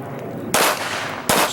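Pistol fire at an IDPA shooting match at a rifle and pistol club: two loud close shots roughly three quarters of a second apart, each trailing off in a broad reverberant echo.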